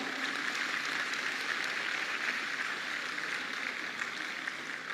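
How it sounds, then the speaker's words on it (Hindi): An audience in a hall applauds with a dense, even patter of many hands clapping, steady and somewhat distant for the whole stretch. "ऐसी मेरी बहनों अपने लिए जोरदार तालियां बजाओ।"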